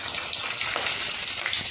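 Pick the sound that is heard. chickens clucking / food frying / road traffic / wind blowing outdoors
food frying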